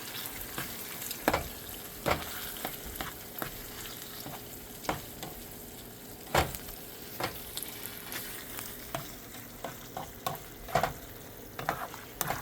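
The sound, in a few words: stirring ingredients into frying meat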